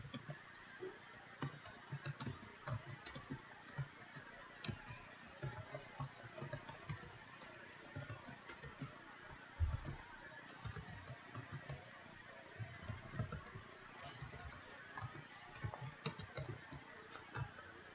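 Steady typing of HTML header tags on a computer keyboard, soft irregular key clicks running throughout at a quiet, close-up level.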